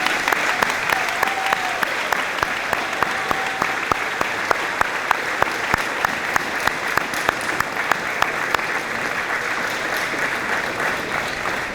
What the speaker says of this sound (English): you all deserve a big standing ovation